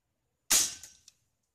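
A single sharp shot from an air gun firing homemade pellets at a brick cracks out close by, followed by a brief rattling echo and a small click as it fades; air pressure is low.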